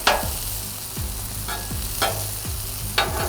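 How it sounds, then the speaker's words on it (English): Onions sautéing on a burger griddle, a steady sizzle under several distinct scraping clicks of a spatula against the metal plate, close and fairly loud. "Saute my onions just a little bit."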